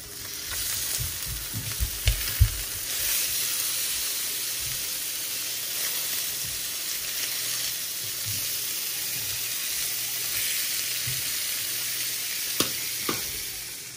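A salmon fillet fries in a pan with a steady, bright sizzle and crackle that holds throughout, broken by a few soft clinks and bumps near the start and end.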